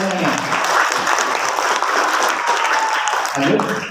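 Applause at a large family gathering, dense sustained clapping from many hands filling the room for several seconds, with a voice faintly heard at the end.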